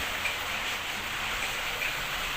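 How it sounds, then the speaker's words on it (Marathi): Steady, dense rainfall hisses evenly throughout, a continuous wash of falling water with no voices. "पाऊस पडतो भरपूर पाऊस आहे"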